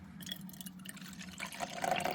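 Guinness beer pouring into a glass, a steady close trickle and gurgle of liquid that grows fuller and louder toward the end.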